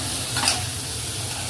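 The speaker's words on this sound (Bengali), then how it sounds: "মা কপিটা ভালো করে ভাজুক" Cauliflower florets fry in hot oil in a pan for a potato, cauliflower and snakehead fish curry, giving a steady, close, hissing sizzle with one brief stirring scrape, with no talk over it.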